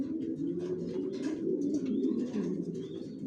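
Racing pigeons in a loft coo steadily throughout, a dense overlapping murmur of low throaty calls from several birds close by, with no talk.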